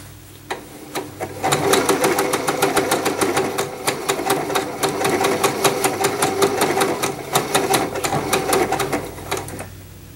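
A Janome sewing machine runs steadily while stitching a blind hem in fabric, with a fast, even mechanical clatter. The stitching starts after a few clicks and keeps up for about eight seconds before slowing and stopping.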